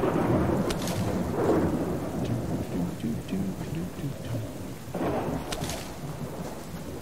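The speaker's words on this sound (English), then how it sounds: "This is the problem with the rain." Steady heavy rain with low rumbling thunder fills the scene in the survival video game Subsistence, loud and continuous with swells of thunder near the start and again later.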